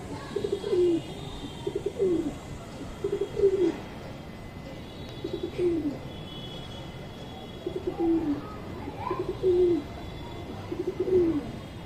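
Soft, repeated cooing of pigeons, about a dozen low throaty calls in loose pairs, moderately close over quiet background hiss.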